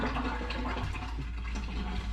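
Buttermilk is poured off fresh homemade butter, a steady close trickle and splash of liquid that lasts the whole moment and ends in a small final slosh.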